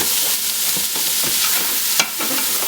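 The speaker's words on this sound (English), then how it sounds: "We'll let these vegetables sweat here for a minute" Diced celery and trinity vegetables for Cajun dirty rice sweat over lower heat in a pan, giving a steady close sizzle with a few scraping stirs of a utensil across the bottom.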